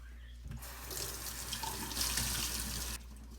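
Tap water runs into a sink for about two and a half seconds as a freshly cleaned Peace dollar coin is rinsed, a steady hissing splash that starts and stops abruptly, fairly close and quiet.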